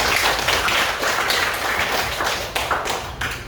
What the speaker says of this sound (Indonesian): Tepuk tangan untuk jawaban kalian semua.